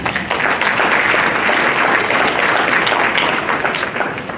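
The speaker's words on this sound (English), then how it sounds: "you owe yourself a round of applause" The audience at a Masonic charity ball breaks into loud, sustained applause, a thick, even roar of many hands clapping that holds steady for several seconds.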